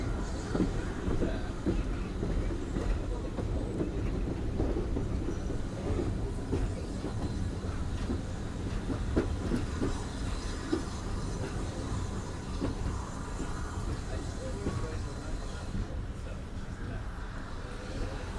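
A Swanage Railway steam train rumbles at Corfe Castle station with continuous low rolling and clattering of carriages, steady and moderately near, while voices talk in the background.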